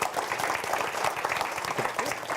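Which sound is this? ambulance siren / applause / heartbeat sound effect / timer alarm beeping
applause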